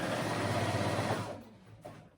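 A sewing machine runs a zigzag stitch over a seam, a fast even mechanical whir for over a second before stopping, followed by a brief quieter handling sound.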